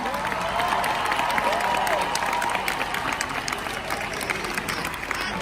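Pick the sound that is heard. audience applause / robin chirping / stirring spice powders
audience applause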